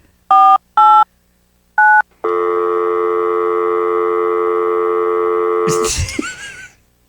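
Touch-tone keypad dialing on a phone: three short beeps, then one long sustained tone that ends in a brief burst of noise.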